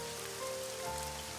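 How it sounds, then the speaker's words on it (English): Steady heavy rain drums on an umbrella in the visual novel Summer Pockets, a dense continuous patter with faint tonal background music running beneath it, no voices. "The rain was pounding fiercely on the umbrella"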